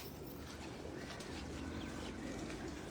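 Female pigeons settled in a dark loft coo softly and steadily, the low murmuring spread over a constant background hiss with no talking.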